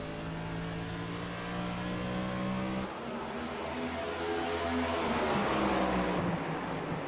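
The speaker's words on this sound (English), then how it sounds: "You can hear 5 gears as they race into the corners." Next-gen race cars with paddle shifters run at New Hampshire, engines droning and revving at a distance with pitch dropping through gear changes into the corners, a continuous moderate roar of passing cars.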